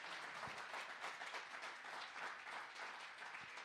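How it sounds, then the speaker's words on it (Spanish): Church congregation applauding during a sermon, a dense, even wash of clapping heard at a distance, steady throughout with a couple of low thumps. "alguien que le dé un fuerte aplauso al Dios poderoso."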